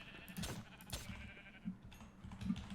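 A sheep in a survival game bleats as it is killed, a few short faint bleats spread over a couple of seconds amid light clicking.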